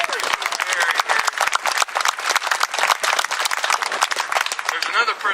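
A crowd gathered at a veterans monument dedication in Estes Park claps steadily, a fairly loud, close, continuous patter of many hands, with scattered voices mixed in.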